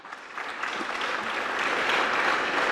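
Audience applause at an inaugural session of a congress, starting moderate and building slightly louder, a dense steady clatter of many hands with no talk over it.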